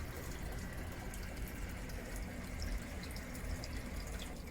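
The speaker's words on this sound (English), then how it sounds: "All the water from the system passes through this pipe at a rate of 450 gallons an hour." Water flows steadily through an aquarium filter pipe carrying the system's water at 450 gallons an hour, a continuous soft rushing and trickling with no break.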